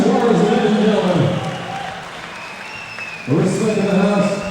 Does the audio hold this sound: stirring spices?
no